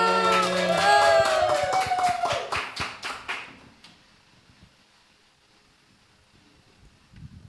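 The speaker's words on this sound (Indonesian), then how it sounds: "Tepuk tangan dulu." A short burst of clapping at a youth and teen fellowship gathering follows a brief musical tone, the claps sounding as distinct close strikes that taper off within a few seconds into near silence.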